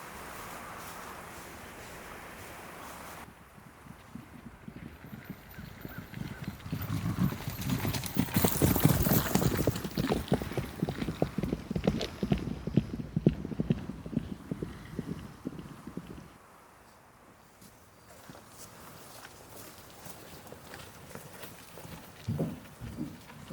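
Several horses clip-clop along at a steady walk. The hooves grow louder and denser midway, then thin out to scattered distant steps.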